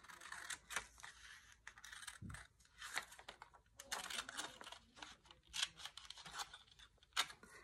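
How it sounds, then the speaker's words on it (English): Scissors snip through colored paper along a drawn line while making paper beads, giving a run of crisp, close cutting crunches in irregular bursts with brief pauses between strokes. "I'm going to go ahead and cut right on that line"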